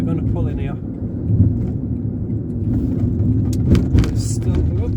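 A car turning into a parking area hidden by trees near Hordron Edge, its engine a steady low rumble close by, with a person talking over it.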